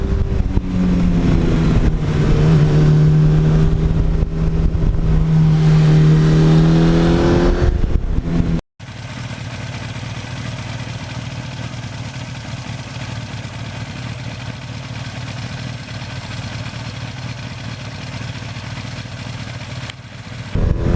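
A 1982 Suzuki GS1100E motorcycle engine revs loudly up and down in repeated swells, then after a brief cut settles into a steady, even engine drone while riding, close and without talk.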